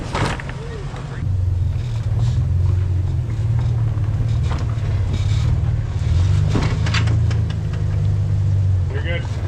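A Chevy-powered off-road Jeep engine idles with a steady low rumble on a rocky Black Hills trail, running continuously under occasional spoken spotting directions.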